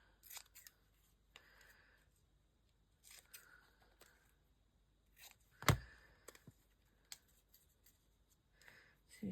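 Scissors snip and trim paper for a handmade scrapbook journal, giving a few quiet, scattered cuts close by with soft rustling between them and one sharper snip partway through.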